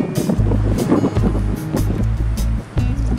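Strong offshore wind blows across a Japanese home surf point on a flat, lake-calm morning, buffeting the microphone with a steady, loud rumble while faint water wash sits underneath; no one speaks.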